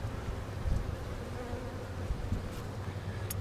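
Honeybees shaken into a hive hum in a dense, continuous low buzz close by, with a few brief sharper flicks over the drone.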